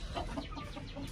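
A black hen kept with other backyard poultry clucks softly and repeatedly, a quiet series of short clucks over a noisy background, with no voices.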